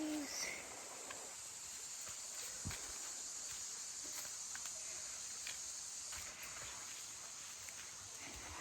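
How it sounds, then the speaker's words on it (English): Crickets and cicadas along the Broad River Trail in the Russell Wildlife Management Area near Toccoa, a steady high insect drone filling a quiet shady trail, with faint footsteps and rustling underneath. "Hearing the crickets and the cicadas and the river."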